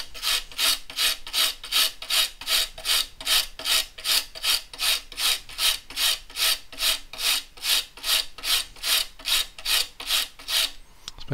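Steady back-and-forth scraping of glue off the wood of an acoustic guitar, with about thirty even, raspy strokes in a regular rhythm, close and fairly loud.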